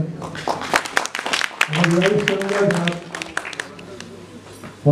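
Theatre audience applauding at a stage play event, with a steady patter of many hands under a voice speaking over a microphone, swelling briefly then settling.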